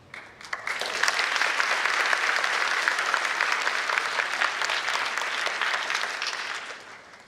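Sustained applause from a large audience at a keynote session of an education conference, starting with a few claps, swelling into dense steady clapping and fading slowly near the end.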